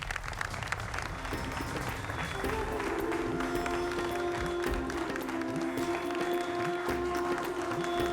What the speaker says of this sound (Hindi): तो जोरदार तालियों से अभिनंदन है हमारे सारे मेहमानों का।